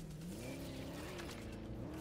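A car engine hums and revs in a video game, its pitch rising and dipping steadily as the vehicle drives, fairly loud and close.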